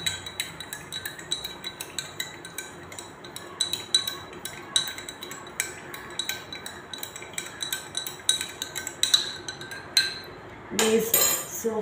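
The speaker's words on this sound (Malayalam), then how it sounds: "നമുക്ക് നന്നായിട്ട് മിക്സ് ചെയ്ത് കൊടുക്കാം." A spoon stirring sugar into a lemon juice drink in a glass, a steady series of light clinks against the glass, close and fairly quiet, ending in a brief louder clatter.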